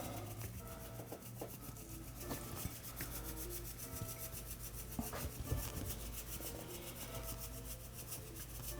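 Hands rub spice rub into raw pork spare ribs, a faint, steady scraping and rubbing texture with small bumps and pats, recorded close and quiet without talk.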